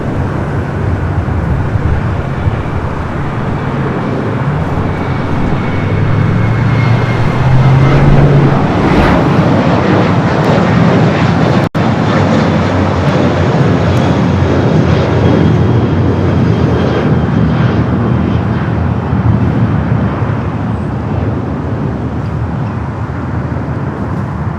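Arriving airliner touches down in a smoky landing on the north side at Los Angeles, a loud sustained roar of engines and runway contact that builds, peaks mid-way and slowly eases off.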